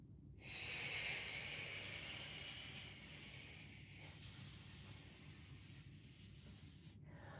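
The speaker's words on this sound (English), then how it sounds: "Try this one on a hissing sound" A long, steady hissing exhale, pausing briefly and then resuming sharper and brighter, like air pushed slowly through the teeth.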